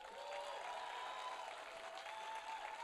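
An audience applauds to welcome film director David Leitch on stage, a dense, steady wash of clapping that holds even and sustained throughout, with faint crowd murmur beneath.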